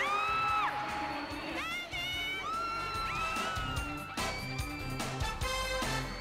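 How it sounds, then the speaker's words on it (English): A stadium crowd cheering for a football star's trick display, with shrill whoops, rising shouts and excited high-pitched voices over a busy roar, somewhat distant and moderately loud throughout. "He then performed some of his trademark tricks to rapturous applause."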